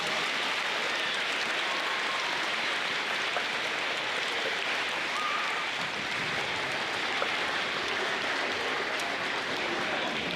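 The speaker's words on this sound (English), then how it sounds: "let's honor all of our service members with a big round of applause" Schoolchildren in an assembly give service members a big round of applause: dense, steady clapping that fills the room and stays even and unbroken for the full stretch.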